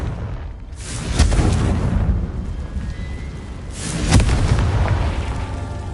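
Two Confringo spell explosions in a Harry Potter video game, each a deep booming blast with a crackling burst that rumbles away, the second arriving a few seconds after the first, loud and close.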